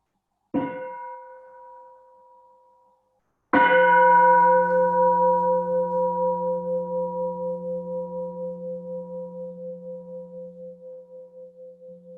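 A meditation bell is struck twice, first a brief ring that is cut off, then a full resonant strike whose warm tone sustains and slowly fades with a gentle pulsing shimmer for many seconds, alone with no voices.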